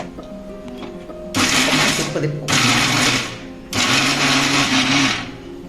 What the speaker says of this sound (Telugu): ఇప్పుడు ఒక మిక్సీ గిన్నె తీసుకొని దాంట్లో పోసేసుకుంటున్నాను